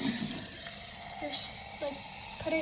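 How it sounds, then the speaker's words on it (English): Water runs from a tap into a cup in a steady, hissing stream, close by, with faint background noise and a few soft knocks. "put some water in it"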